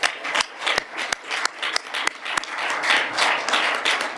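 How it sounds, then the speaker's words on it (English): Conference audience at a session on social dialogue in the green transition breaks into loud, sustained applause, with close sharp claps standing out over the dense crowd clapping throughout. "I think you all deserve a big applause from our side"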